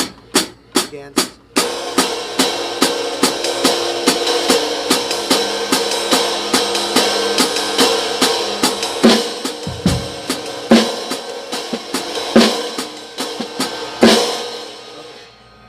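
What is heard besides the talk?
hi-hat cymbal being played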